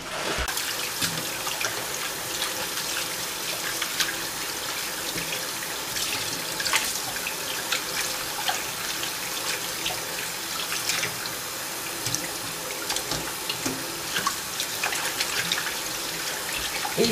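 Tap water runs steadily into a sink while chitterlings are washed by hand, a continuous close splashing rush with faint knocks and handling noises and no talking.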